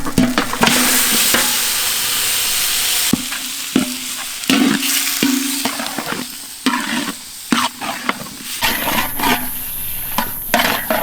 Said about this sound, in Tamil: கட்டி பிடிக்காம கிண்டிக்கிட்டே இருக்கணுமுக்கா